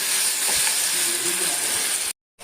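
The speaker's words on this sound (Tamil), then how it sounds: "அதில் 3 பனானா, 3 பனானாவை நம்ம ட்ரை ரோஸ்ட் பண்ணி எடுத்துக்கிறோம்." Steady bright sizzling hiss of bananas roasting in ghee in a hot pan, with faint stirring clinks underneath, cutting off abruptly near the end.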